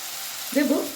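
Spices with coriander powder and a little sugar sautéing in a pan for a kohlrabi and prawn dish, a brief sizzle flaring up midway over steady background noise.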